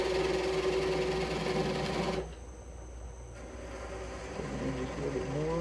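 A wood lathe spins a green wood bowl with a loud, steady motor whine and cutting noise, then drops abruptly to a quieter hum before building up again.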